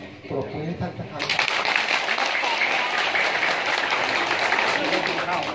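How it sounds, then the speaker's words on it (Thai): A crowd at a Thai political party gathering in Sung Noen breaks into applause after a short burst of speech, the clapping swelling and holding loud and dense to the end. "ปรบมือให้ท่านสักครั้ง"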